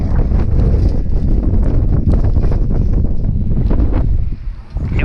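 Strong blizzard wind at the Kirkwood ski resort in California roars and buffets the microphone in loud, continuous gusts, easing slightly near the end, with no talk.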